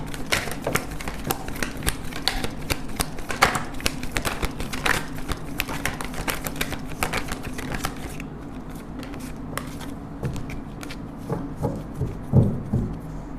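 A deck of tarot cards is shuffled close up, producing a continuous dense riffling patter of crisp card flicks for most of the time, easing into sparser snaps toward the end, heard over a faint room hum.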